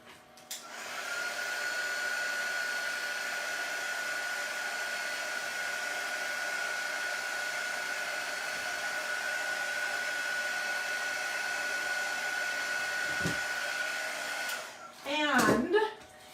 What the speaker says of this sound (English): you could also do this with a blow dryer if you don't have a heating gun.